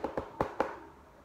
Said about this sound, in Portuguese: E ele bateu na porta do segundo irmão.